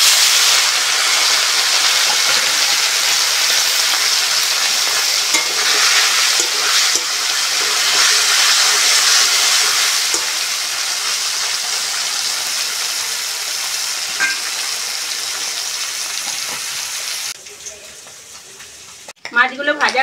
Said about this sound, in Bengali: এইবার আমি মোরলা মাছগুলোও ভেজে নেব